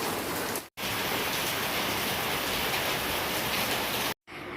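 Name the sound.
rain falling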